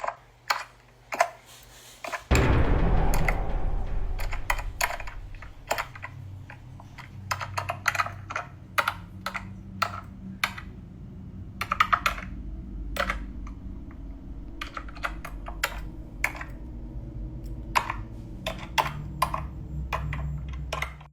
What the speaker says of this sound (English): the unmistakable sound of someone typing on a keyboard, steady and deliberate, in a completely dark and otherwise silent room